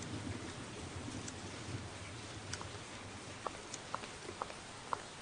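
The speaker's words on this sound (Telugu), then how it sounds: "వాన పడుతుంది" Steady rain falls across a wide area, a soft, even hiss with a few sharp drip ticks near the end. It stays fairly faint, with no voices.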